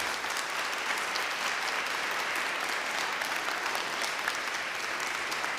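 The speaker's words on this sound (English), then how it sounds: "Let's give them a clap as well." Sustained applause from a school audience at a proms concert with an orchestra, a dense, steady wash of many hands clapping at close range that lasts the whole stretch without a break.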